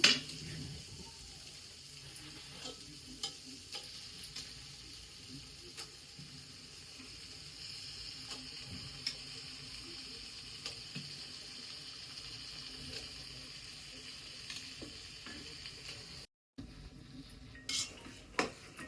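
Mutton liver cooks in a pan for gravy, giving a faint, steady sizzle with scattered clinks of utensils against the pan throughout.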